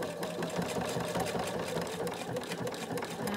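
A sewing machine runs steadily, stitching an eyeglass case with a fixed or back stitch, its continuous mechanical whir holding an even level throughout with no pauses.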